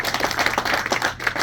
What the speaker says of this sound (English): let me pass the applause back on to you